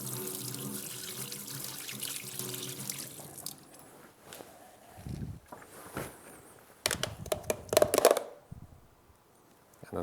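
Tap water running into a kitchen sink while something is rinsed clean, a steady splashing stream that breaks into irregular gushes and clattering splashes before stopping, close by.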